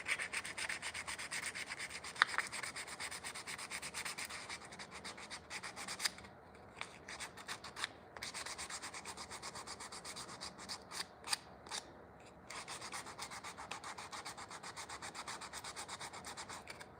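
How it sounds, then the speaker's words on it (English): Sandpaper rubbing back and forth across a surface while an elevator emergency phone is being replaced, a steady close scratchy abrasion running almost throughout with a few brief pauses. "Where's the sandpaper?"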